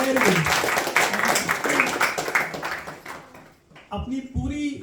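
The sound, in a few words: applause for a student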